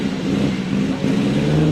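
A classic Dino car's V6 engine revs loudly and close, a throaty, continuous roar that swells slightly toward the end, with no talk over it.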